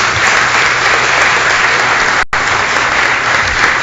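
Dense, sustained applause from a large audience at a formal anniversary ceremony of a São Carlos engineering school honouring a former beadle, steady and loud throughout with a brief dropout midway.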